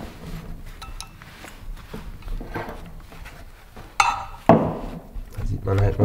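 An original 1.6 litre VW Beetle crankshaft set down beside another in a workshop, giving a few sharp heavy metallic clanks near the end after quieter handling sounds, with someone talking between them.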